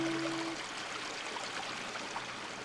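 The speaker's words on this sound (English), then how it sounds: "I'm sitting, as Brother Ocean said, in a creek bed, and this is Sanborn County Park" Water trickling and flowing over stones in a creek bed at Sanborn County Park, a soft, steady babbling wash heard alone and fairly close, with a brief faint hum at the start.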